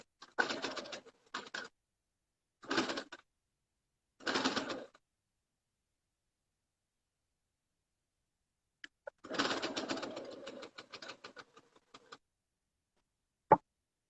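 A sewing machine stitches through three layers of leather for slippers in short bursts of rapid mechanical clatter, pausing between runs and ending in a longer stretch of stitching, close and alone.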